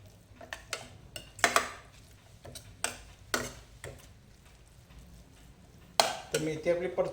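Fenugreek leaves are stirred and sautéed in a pan, with irregular clinks and scrapes of a spatula against the metal over a faint sizzle, some strokes louder and closer than others.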